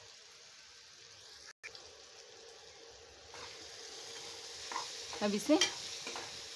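Egg bhurji cooking in a pan, Bengali style, with a soft steady sizzle that swells as a spatula stirs and scrapes, ending in a few louder close clatters, with a brief spoken word.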